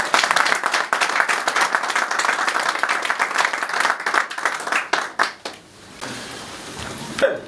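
Applause at a political party meeting: a crowd claps loudly and densely at first, then the clapping breaks up into scattered individual claps and fades to a quieter room with a few last sounds.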